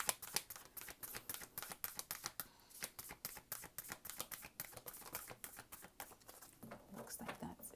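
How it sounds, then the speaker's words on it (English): Tarot-style cards shuffled by hand in a quiet room: rapid rhythmic riffling and soft slapping bursts repeating steadily, close and fairly faint, heard alone. "I'm going to shuffle one more time"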